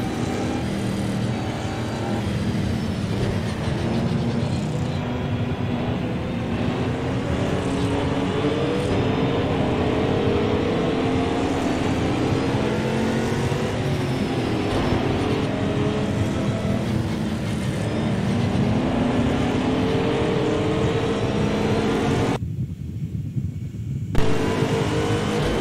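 A McLaren GT3 race car engine in Project Cars 2 drones steadily and loudly throughout, with rising and falling revs and a brief dropout of the upper tones near the end.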